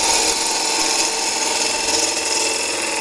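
A 13 mm bowl gouge is sharpened on a grinder with a OneWay jig, giving a continuous, loud, hissing grind with no pauses.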